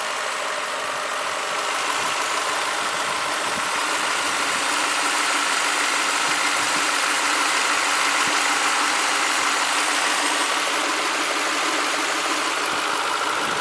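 A 1998 Lexus SC400 V8 engine idles smoothly and steadily, a continuous even rumble with no revving and no voices.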